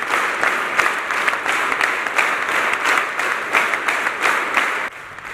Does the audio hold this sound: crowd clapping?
yes